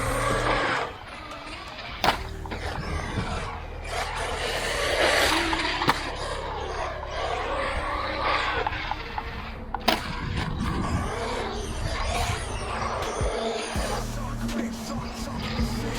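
A UDIRC 1611 Rageshark small RC truck drives around a skate park, its electric motor whining with bursts of acceleration, sharp knocks and clatters from landings and impacts, and brief tire scuffs across concrete throughout.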